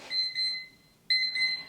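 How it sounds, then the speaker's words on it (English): An alarm clock rings with a high, steady electronic tone in two sustained bursts separated by a brief dip, close and fairly loud, with no talking. "the alarm is being silence."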